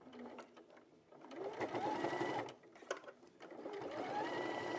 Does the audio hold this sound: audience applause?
no